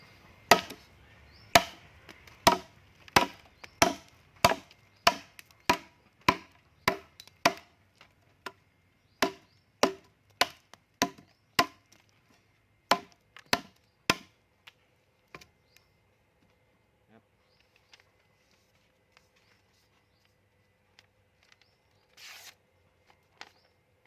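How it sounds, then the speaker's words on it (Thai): A handmade knife hacks at bamboo in wet weather, more than twenty sharp, crisp chops in a quick, uneven rhythm over about fifteen seconds, close and loud, then a few scattered faint knocks in near silence. "ผมมาฟันไม้ไผ่นะครับ"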